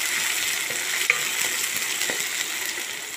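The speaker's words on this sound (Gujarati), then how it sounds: "ફ્રાય કરી લેશું." Onion, capsicum, green chilies, ginger and garlic fry in hot butter for paneer bhurji, a steady close sizzle with faint stirring scrapes and one small clink, no voices.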